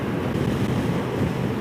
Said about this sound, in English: I hear just the wind, really, and just the slightest little noise of the engine